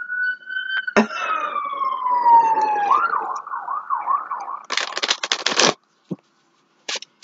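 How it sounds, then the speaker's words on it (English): Sirens go by, first a falling wail and then a rapid yelp warble, loud and close, followed by bursts of rustling noise and a short silence. "here comes the sirens"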